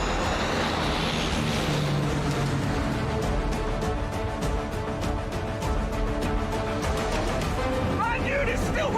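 Airplane engine roaring steadily through takeoff, a continuous loud drone and rush that holds level throughout, with people talking over it.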